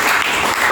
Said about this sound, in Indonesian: Tepuk tangan untuk kelompok kinestetik.